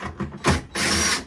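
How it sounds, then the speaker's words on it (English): A power drill whirs in short bursts, a brief spin, a pause, then a longer sustained whine as it removes screws from a boat's cabinet for generator access, close and fairly loud. "Put them in my speed drill here and start taking them out."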